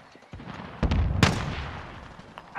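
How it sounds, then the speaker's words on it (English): Rocket launch and gunfire in Call of Duty: Modern Warfare, a few sharp loud bursts with a broadband blast around the middle over a steady rumbling battlefield background. "Launching rocket."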